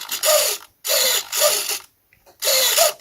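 Servo-driven rudder and elevator control linkage on an RC model aircraft moving back and forth, close whirring-ratchet bursts in four short repeated pulses separated by brief silences.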